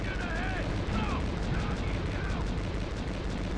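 Gunfire in the PS2 squad shooter Conflict: Desert Storm II rattles in dense bursts, like automatic weapons firing continuously, with players talking over it.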